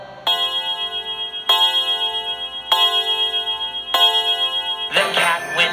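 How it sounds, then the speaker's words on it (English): Ticking of a clock in a children's nursery rhyme, four evenly spaced bright, ringing tick strikes about a second apart, followed by a brief busier burst at the end. "Tick tock, tick tock, tick tock, tick tock."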